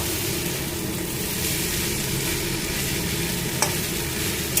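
Sautéed vegetables stir-fried together with atta Maggi noodles in a pan, a loud, continuous close sizzle with a brief clink of a utensil, no voices.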